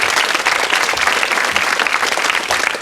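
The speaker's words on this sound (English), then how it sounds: "Give them a round of applause." Studio audience applause on a quiz show, a brisk, even burst of clapping from a crowd, fairly loud and continuous throughout.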